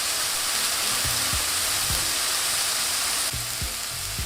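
Smash burger patties sizzling on a hot griddle, a loud constant hiss and crackle like heavy rain, with a few low thumps underneath, close and steady throughout.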